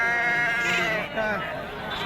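Sheep bleat several times in quick succession, close by, while people talk over them.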